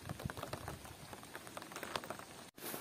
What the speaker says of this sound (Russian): Гуляем под дождем.